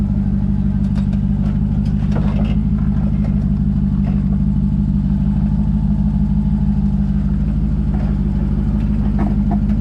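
An off-road vehicle's engine runs on a Drummond Island wheeling trail, a steady close rumbling idle with light throttle nudges that lift it slightly, continuous and loud for about ten seconds with no speech.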